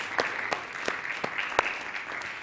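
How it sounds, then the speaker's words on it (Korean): A church congregation claps in a steady rhythm, sharp regular beats about three per second, moderately quiet and heard alone. "우리 박수 한번 하죠"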